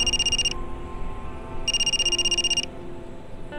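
A phone rings aboard a passenger plane in two bright electronic ringtone bursts with a pause between, loud and close, with no talk over it.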